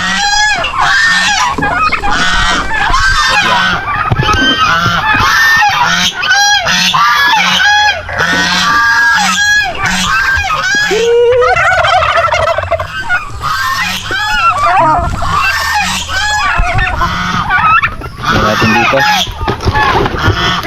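Loud, overlapping gobbling and honking from a crowded flock of turkeys on a farm, continuous and close, with a voice occasionally under the noise.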